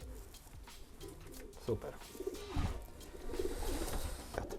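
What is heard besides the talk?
racing pigeon cooing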